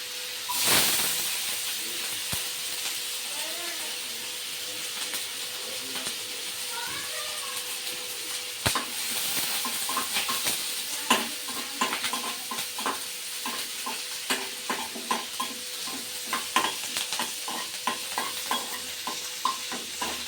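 Onion, green chillies, curry leaves and ginger-garlic fry in hot oil in a pan with a steady close sizzle. Repeated scraping stirs cut through it, and faint talk is heard in the background.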